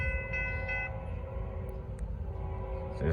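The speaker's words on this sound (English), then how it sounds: "I don't expect this train to go track speed." Norfolk Southern freight 28R going by in the Charlotte area: a chord horn sounds briefly at first, then a continuous low rail rumble with scattered wheel clanks, moderately distant and steady.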